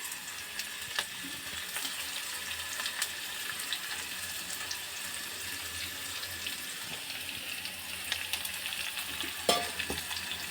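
Green chili, ginger and garlic paste sautéing in a pan for spiced pressure-cooker rice, a steady close sizzle and stir with a brief clatter near the end, no voices.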